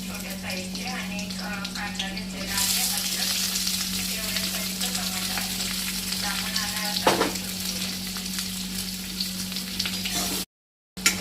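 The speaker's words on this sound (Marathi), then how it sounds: "तर हे सगळं आपण मिक्स करून ह्याला चांगलं परतून घेऊया तेलात।" Onion, tomato and chilli sautéing in oil for masala pasta give a continuous close sizzle with scraping stirs, joined by a louder hiss partway through, then a brief silence near the end; a person talks over it.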